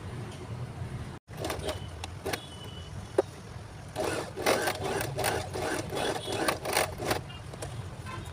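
A sewing machine stitching around the edge of a newborn baby cap, in short bursts of rapid mechanical whirring, some stopping and starting, with low background noise between runs.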